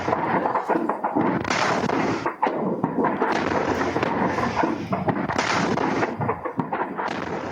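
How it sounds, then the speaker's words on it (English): U.S. cruise missiles strike a Syrian airbase at night: a continuous dense barrage of blasts and crackling detonations, loud and distorted, with no talk over it. "You're looking at new video from Syrian TV showing U.S. cruise missiles hitting the Syrian airbase late last night."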